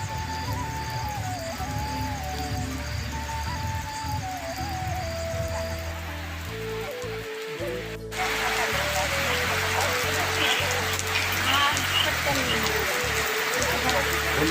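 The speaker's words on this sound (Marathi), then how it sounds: "एकदम जबरदस्त पाऊस पडा ना" Heavy rain pours down steadily, growing louder partway through, with voices and some music-like tones faintly underneath.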